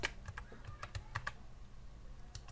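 Computer keyboard keys tapped while entering a MATLAB command, a quick, irregular run of light clicks, close and fairly quiet, with a short pause near the end before a final couple of taps.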